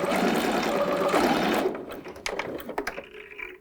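A sewing machine runs a continuous buzzing stitch for about a second and a half while backstitching on a child's unisex jumpsuit, then stops, leaving handling clicks and small rustles.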